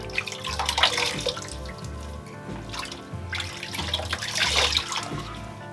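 Water rinses soap off a face after a shave at a sink, close splashing and dripping with irregular trickles and handfuls of water splashed in uneven bursts.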